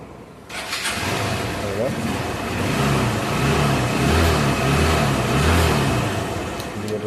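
After electrical repair, a motorbike engine starts and runs with a loud, close, rumbling idle, rising into a few revs. Someone speaks briefly over it.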